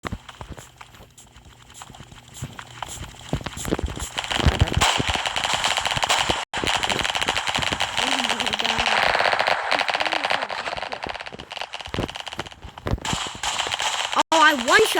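Sakura shotgun blasts in the video game Flag Wars, loud dense bursts of gameplay gunfire and clatter running nearly throughout, with a few sharp peaks standing out near the end.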